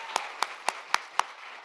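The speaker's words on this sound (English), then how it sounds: "So a round of applause to Kirsten." Five crisp, evenly spaced hand claps ring out at a quick steady beat for an honoree at an education summit. They sound like a single nearby clapper rather than a full crowd, with no talking.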